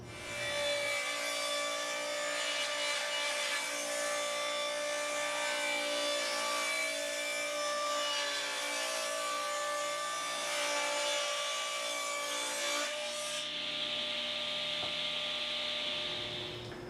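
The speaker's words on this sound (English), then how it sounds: "I went ahead and set up the miter saw with a support arm at one end of the table to support the workpiece" A miter saw cuts pine frame struts with a steady, close, whining buzz that holds for about thirteen seconds, then shifts to a higher-pitched spin-down with no voices.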